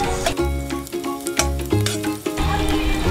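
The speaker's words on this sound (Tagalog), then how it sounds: "maglalagay na tayo ng mantika. At igigisa na natin ang sibuyas." Sliced onion sizzles in hot cooking oil in a pan, a loud crackling fry broken by clattering stirring strokes close up.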